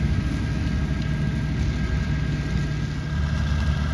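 A farm mower engine runs at a steady idle, close by and continuous with a low, even drone and no voices.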